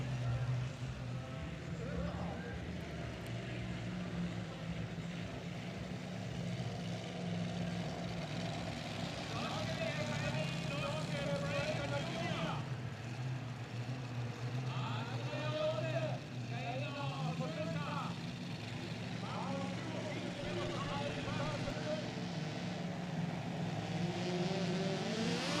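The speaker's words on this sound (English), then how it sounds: "now the tractor is running" A mini rod pulling tractor engine running at a tractor pulling championship, a steady droning rumble from some distance, with a commentator talking over it throughout.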